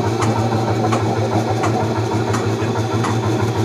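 A loud tractor engine chugs steadily at idle at an amusement park, a deep continuous rumble with faint rhythmic knocking, close by and alone.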